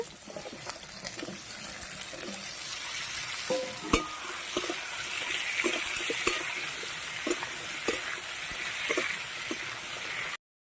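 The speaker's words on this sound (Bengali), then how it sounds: "এবারে আলুগুলো তেলের ওপর দিয়ে দেবো আলুটা ভালোভাবে কষিয়ে নিতে হবে" Potatoes being stirred and fried in hot oil for a light fish curry, a steady close sizzle with scraping spoon strokes and a few sharp knocks, no voices.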